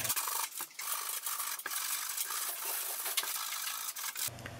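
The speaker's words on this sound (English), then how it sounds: "used a sanding sponge to sand all the fuzzies away" Close, repetitive scratchy rubbing of a sanding sponge over pine wood, in uneven back-and-forth strokes with brief pauses.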